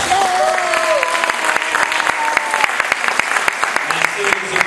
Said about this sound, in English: That's when you can clap.